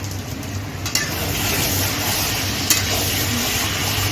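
Taro leaves stirred with hilsa fish heads in a pan, a steady sizzling fry with soft scraping strokes and a couple of sharp utensil clinks near the start and middle, no voices.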